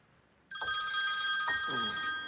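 A telephone bursts into loud, steady ringing after a moment of near silence, its bright bell tone repeating close by in an indoor scene with no talking.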